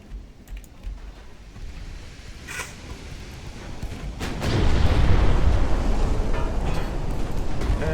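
A deep rumbling explosion builds midway and swells into a loud, sustained roar as a ship's torpedo launcher is destroyed in the naval video game Ultimate Admiral: Dreadnoughts, following quieter clicks and ambient battle noise.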